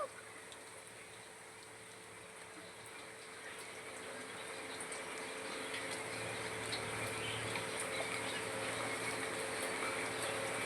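Amaranth leaf pakoda deep frying in hot oil, giving a steady soft sizzle and bubbling that swells gradually louder over time, without anyone speaking.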